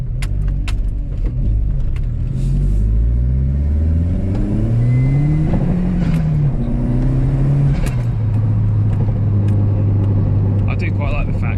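A Mk3 Golf GTI with a 1.8 turbo engine accelerates down a road, revving up through several gears with rising and falling engine tone, heard loudly from inside the car.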